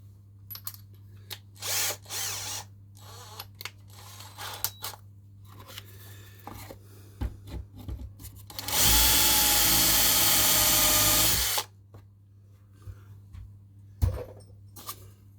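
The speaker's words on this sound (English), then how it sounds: "I'll drill all others." A power drill cutting a countersink hole in wood, one loud sustained whine lasting about three seconds, framed by quieter handling clatter and short bursts before and after.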